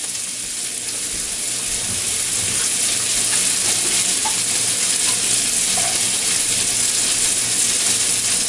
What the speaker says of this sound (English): I'm probably going to be stirring it a lot more than occasionally